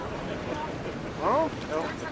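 Wind rushes steadily past a Viking ship replica under sail at sea, a constant broad roar with a brief louder gust and a few faint squeaking tones rising out of it.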